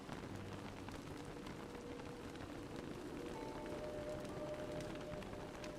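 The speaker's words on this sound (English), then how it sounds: "Why is it raining so much?" Steady rain falling in the Don't Starve video game, a continuous dense patter with no talk over it.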